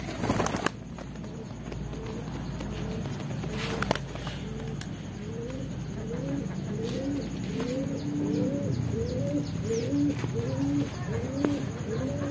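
Racing pigeons coo during a short-distance training session, with repeated soft rolling coos at a steady rhythm from close by over a constant outdoor background hum.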